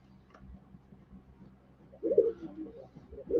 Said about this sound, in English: You hear our pigeons going crazy